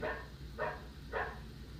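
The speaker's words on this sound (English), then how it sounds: "A dog." A toy that plays animal sounds gives three short recorded dog barks, evenly spaced about half a second apart, moderately loud with a slightly tinny, electronic tone and no talking over them.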